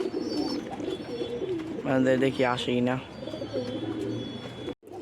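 Newly bought pigeons in a Bangladeshi loft coo in a clear, pulsing burst of throaty calls at close range. Faint background noise surrounds the calls, and someone speaks briefly.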